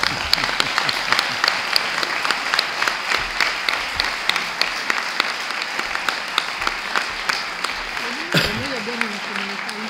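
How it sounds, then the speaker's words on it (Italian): A crowd applauds steadily and densely for several seconds, the clapping tapering off near the end as a voice begins speaking. "facciamo un applauso a Sua Eminenza"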